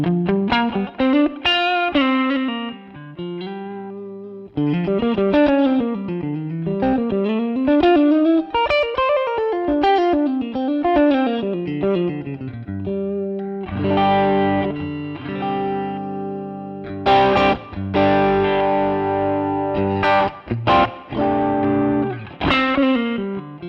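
Electric guitar through a Tube Screamer overdrive into a 1965 Fender Pro Reverb amp, playing a melodic line then chords, warm and slightly crunchy with sustained notes, loud and up close with no talking.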